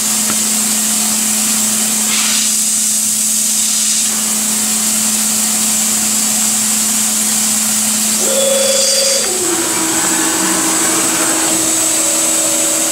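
A mill-turn machine cuts an inner bearing adapter at 800 RPM and 11 thou per rev, giving a steady close mechanical whine and hum, with a brief shift in tone partway through and no voices.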